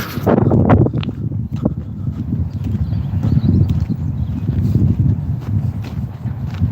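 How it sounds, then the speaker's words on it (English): Cows walk through a broken fence outdoors, their hooves making irregular clopping thuds and scuffs that are close and fairly loud over a steady low rumble of wind. "The cows have broken through the fence."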